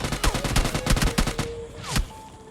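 Shotgun blasts from an S12 in PUBG Mobile Lite, a rapid run of loud, sharp booming reports close up, followed after a short pause by one more shot.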